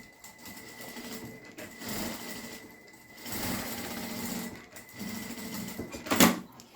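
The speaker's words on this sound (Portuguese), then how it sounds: "E também vou fazer uma costurinha aqui, que vai ser por onde vai passar a nossa fitinha de cetim." A sewing machine stitches a short casing seam in fabric for a satin ribbon on an Easter carrot favor, running in brief bursts that start and stop with quiet gaps between them.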